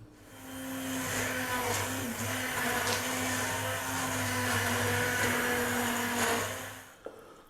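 A hand blender whirs steadily for several seconds blending beetroot and coconut milk soup, with a constant motor hum and churning, then cuts off with a small clunk.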